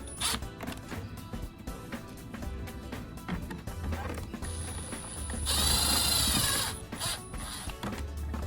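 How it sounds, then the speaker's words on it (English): Rapid ratchet clicks come in repeated close bursts while nuts and washers are tightened during a Toyota Tundra cup holder and shifter trim install, with a whirring mechanical stretch in the middle. "We'll add the washer and the nuts and go ahead and tighten it down."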